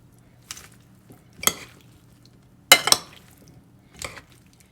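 Salad dressed with vinegar and olive oil being stirred in a bowl, a handful of short separate scraping and clinking strokes, close and fairly quiet against a near-silent background.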